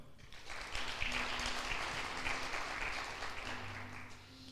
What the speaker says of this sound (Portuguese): Aplausos ao Senhor, então.